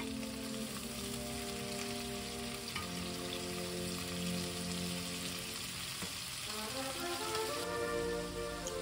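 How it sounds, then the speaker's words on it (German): A venison roast sears steadily in a hot pan, giving a continuous dense sizzle and crackle, like light rain, at an even moderate level from start to finish with no voices. "Einmal wenden und auch von der anderen Seite anbraten."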